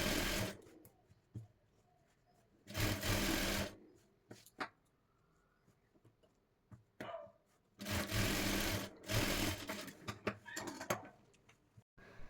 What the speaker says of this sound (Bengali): এখন সাইড থেকে আরও একটি চাপ সেলাই দিয়ে নেব